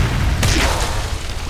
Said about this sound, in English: Start using fire bombs on them